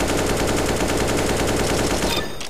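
Sustained automatic gunfire in a video game, a loud rapid unbroken string of shots lasting about two seconds, then abruptly stopping.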